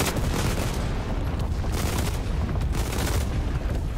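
Dense, continuous gunfire from the Enlisted video game, overlapping shots and bursts forming a loud, unbroken rattle with no pauses.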